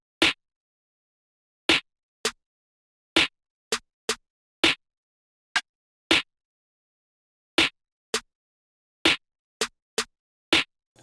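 A sparse, simple drum pattern built from two snare sounds and a rim hit, with crisp isolated strikes in a loose bouncing rhythm and clean silence between the hits.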